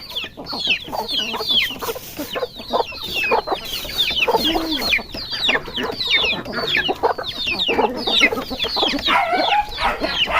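Busy turkeys calling, many overlapping gobbles and clucks close by, continuous and lively throughout.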